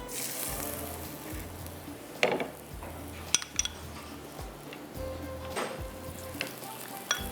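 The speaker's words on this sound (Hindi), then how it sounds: "पराठे तो हमारे फ्राई हो ही रहे हैं" Parathas sizzle steadily in a hot pan with a constant bubbling hiss. Light clinks of utensils and soft scraping sound now and then, with no talk over the frying.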